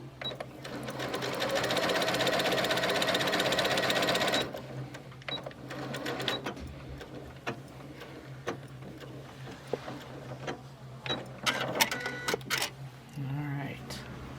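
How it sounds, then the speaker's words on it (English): A sewing machine stitches a seam through a quilt block, running in a fast steady whir for about four seconds, then stopping. Softer clicks and handling noises follow, with a person speaking quietly. "So now that I've sewn through on that side of the 1/4 inch seam"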